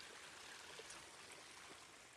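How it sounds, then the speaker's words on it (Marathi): A small waterfall by a rainy lakeside during monsoon pours in a steady, even rush of water, soft and continuous throughout with no voices. "आणि इथं बी एक छोटासा धबधबा आहे."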